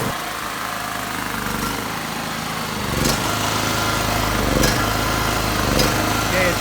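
A small generator engine runs on HHO gas with a continuous buzzing drone and low rhythmic pulsing, marked by a few louder surges as the fuel begins to run low.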